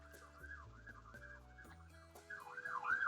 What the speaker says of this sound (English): you might be able to hear sirens out my window